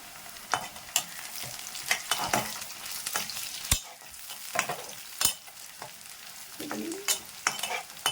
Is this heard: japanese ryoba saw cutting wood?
no